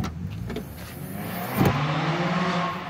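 A car outside revs hard and races past, its engine note swelling to a peak midway and then holding as a steady drone.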